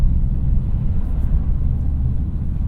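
A Subaru WRX driving on a snowy, unplowed road on Bridgestone Potenza all-season tires, with a steady low engine drone and road rumble heard from inside the car, continuous and fairly loud.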